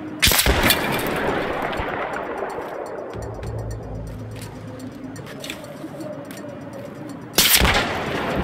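Battlefield 3 video game gunfire: a loud rifle shot with a booming, rumbling battlefield tail, then a second sharp shot near the end, over continuous combat ambience.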